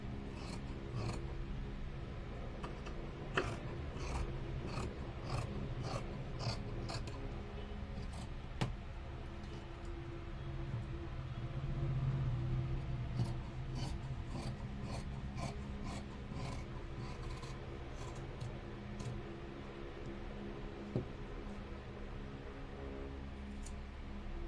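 Scissors cutting uniform trouser fabric on a table, close and fairly quiet, with a rhythmic series of crisp snips and rasping cloth rubs coming in bursts.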